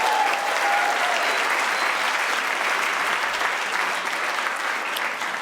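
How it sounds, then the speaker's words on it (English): An audience at a national finals stage show applauds, loud continuous clapping with crowd noise that stays even and sustained throughout. "Can we please get a round of applause?"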